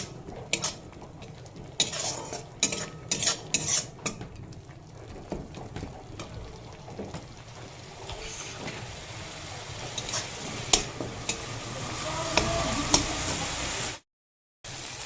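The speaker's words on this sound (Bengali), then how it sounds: "এক চামচ লঙ্কা গুঁড়ো দিয়ে ভালো করে মশলাটা কষিয়ে নেব" A spoon clatters and scrapes in a pan while spice masala with turmeric and chili powder fries for a potato and pointed gourd curry, sharp knocks over a soft steady sizzle, ending in sudden silence.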